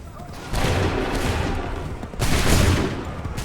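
Massed musket volleys crack out on command in Assassin's Creed 3 Remastered, two loud, dense bursts of gunfire with a rumbling tail, the second starting about two seconds after the first.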